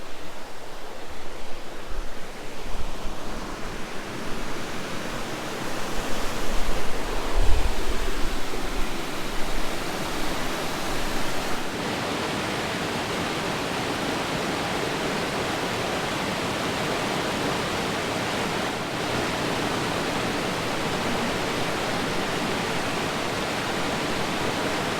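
River water rushing over rocks along a Minnesota shoreline near Beaver Bay, a steady broadband roar of flowing water that stays constant throughout, close and fairly loud, with no talking.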